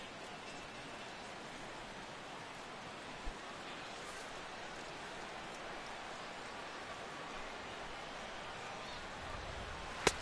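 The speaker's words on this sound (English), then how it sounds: "The rain, as we've mentioned, coming down fairly steadily here at game time." Steady rain falling at game time in a baseball video game, an even, soft hiss of broadband noise running continuously throughout, with an occasional faint click.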